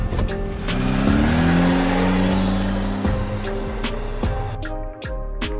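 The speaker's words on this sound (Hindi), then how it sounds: "गुल्ली जल्दी से गाड़ी को घुमाओ।" Cartoon car quickly turning and driving away: an engine revs up with a rising whine, a brief tire squeal, then the motor fades off, with a few sharp knocks near the end.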